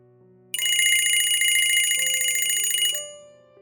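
A mobile phone rings with a loud, bright electronic ringtone that starts abruptly, repeats its melodic pattern for about three seconds, then fades out, with no one speaking.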